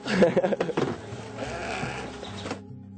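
Several goats bleat loudly and close by in a cluster of wavering cries, then fade into a low murmur of market noise.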